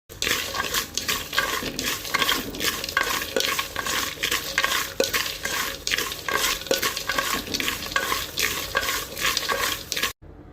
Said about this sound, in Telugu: ఇప్పుడు ఇవన్నీ కూడా మనం రోస్ట్ చేసుకుందాం.